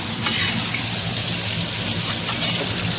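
Spices for zeera aloo fry in hot oil in a pan, giving a continuous, fairly loud, dense sizzle with faint stirring scrapes running through it.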